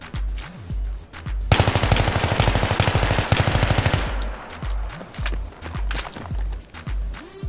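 M16A3 rifle with foregrip and heavy barrel firing in a video game: a loud, rapid string of shots lasting about two and a half seconds, with scattered quieter thumps and footsteps before and after.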